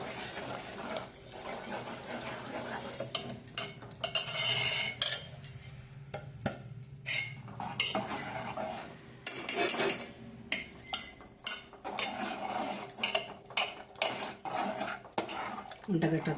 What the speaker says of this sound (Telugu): ఈ రవ్వ అంతా మిక్సీలో ఉన్న రవ్వంతా ఇందులో పోసుకోవాలి పోసుకుంటూ కలపాలి